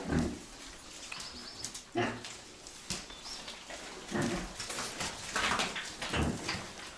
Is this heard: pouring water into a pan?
no